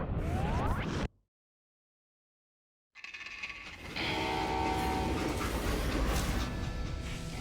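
A train runs in the Western shooter Call of Juarez: Gunslinger, a loud, steady rumbling roar that cuts out into near silence for about two seconds, then returns and swells even louder.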